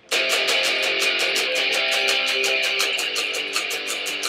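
Guitar chords are strummed briskly and evenly at a lively tempo, a continuous bright progression played close with no talking.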